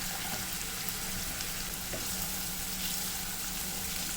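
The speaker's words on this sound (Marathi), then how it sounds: "तेल तापल्यावर त्याच्यामध्ये लसूण टाकायचा त्यानंतर कांदा टाकायचा कांदा एकदा परतून घेतला की मग त्याच्यामध्ये हिरवी मिरची टाकायची" Garlic, onion and green chilli frying in hot oil for methi bhaji, a steady, even hiss of sizzling close by with no talk.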